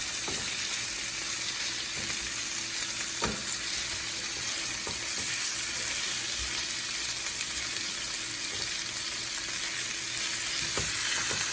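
Oxtails fry in a pan with a loud, continuous sizzle and crackle, broken by a few soft knocks and scrapes as the pieces are flipped over; no voice is heard.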